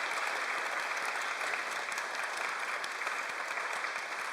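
Steady applause from an audience at a literary translation event, a continuous even patter of many hands, fairly distant and soft, with no talk over it.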